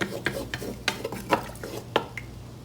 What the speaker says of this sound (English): So I'm gonna add our sauce, the liquid, like this.